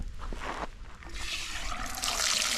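Water trickling steadily at a trail water source along the Pacific Crest Trail, a close, continuous splashing flow with no talk.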